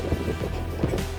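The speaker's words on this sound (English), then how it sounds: "Experiencing some rain, but that's alright." Rain falling steadily during an outdoor run, a dense wash of drops with low rumbling and a few soft thuds, fairly close and continuous with no talking.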